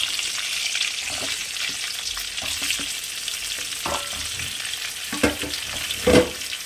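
Cut pointed gourd (potol) sizzling in hot, foamy oil already used for frying fish, a steady crackling fry with a few louder stirring clanks near the end, close up and with no talking.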